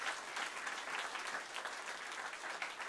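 A church congregation applauds steadily at a worship service, a dense, sustained clatter of many hands clapping together throughout, fairly close and even in loudness, with no talk over it.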